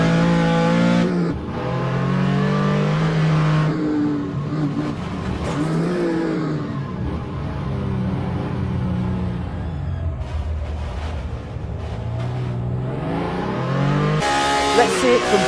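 In-cockpit engine of a Porsche 935 K3 race car in a sim racing game at Road Atlanta, loud and rising through the gears, easing off into lower, rougher running and then pulling hard again, with a commentator talking over it.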